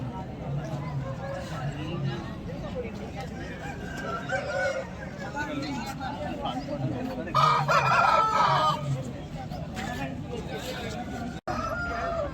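Roosters crow repeatedly at a busy Sunday fighting-cock market in Vijayawada, several calls rising over a steady crowd murmur, with people talking throughout.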